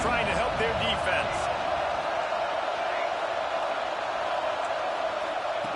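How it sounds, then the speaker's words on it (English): A stadium crowd roars at a college football game, a dense, sustained wall of noise from a large crowd that stays loud throughout beneath a play-by-play commentator's voice. "Listen to this crowd just shaking the girders of this place, trying to help their defense."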